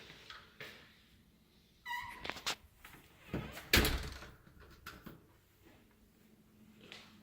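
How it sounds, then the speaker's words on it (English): Side door off the garage of a rental house in Columbia, SC, heard as a few separate knocks, clunks and a sharp latch slam spaced over several seconds in a quiet room, without speech. "Here you have the garage and also a side door to go in and come out as well."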